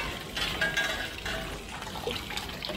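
Chrome-plated BMX bike parts are rinsed in fresh water, giving close, fairly quiet splashing and trickling with a few brief pours and sloshes rising and falling.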